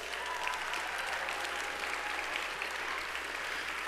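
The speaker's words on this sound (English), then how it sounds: "I want to hear some applause and recognition for these groups of volunteers" Audience applause at a robotics tournament, steady sustained clapping from a crowd honoring volunteer judges, dense and even throughout.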